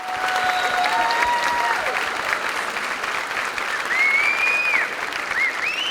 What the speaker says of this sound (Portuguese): O público se levanta e o aplaude de pé.